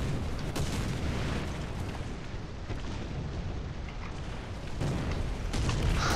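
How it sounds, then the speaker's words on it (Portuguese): An artillery strike lands during a War Thunder tank battle, a dense, rumbling roar of blasts that fills the whole stretch, swelling slightly louder toward the end. "Você vai receber impacto de artilharia"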